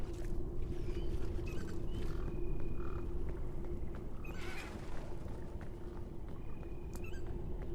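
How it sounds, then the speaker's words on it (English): Frogs croak in the video game PEAK against a dense, steady layer of ambient noise, with faint scattered calls continuing throughout and no voices. "There was frog sounds."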